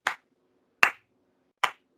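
Three light, evenly spaced claps, slow and polite in the manner of a golf clap, each short and crisp with silence between, close and fairly quiet.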